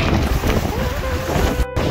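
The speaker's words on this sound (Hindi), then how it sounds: "बहुत ही गजब हवा चल रहा है गाइस मरीन पे।" Strong gusting wind blows along a dusty seafront promenade during a storm. It roars loudly and steadily across the microphone, almost without a break.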